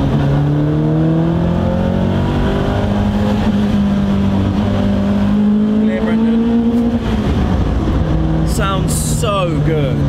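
Raspy engine of a classic Alfa Romeo GTA-R290 being driven, loud and close from inside the cabin, its pitch climbing steadily through the gears before dropping and rising again, with no talking.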